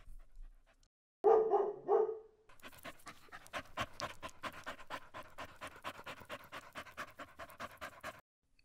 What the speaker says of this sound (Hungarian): Bizony, a kutya az!